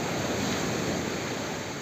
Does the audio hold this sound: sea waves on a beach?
yes